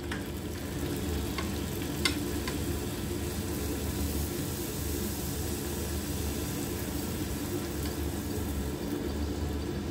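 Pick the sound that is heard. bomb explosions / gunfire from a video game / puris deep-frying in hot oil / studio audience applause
puris deep-frying in hot oil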